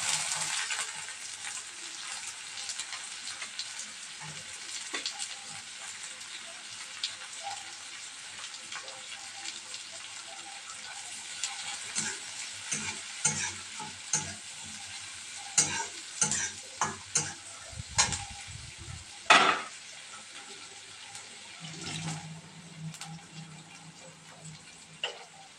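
Chopped onion sizzles in a pan with whole garam masala spices and cumin seeds, a steady hiss under irregular clinks and scrapes of stirring that grow busier toward the end.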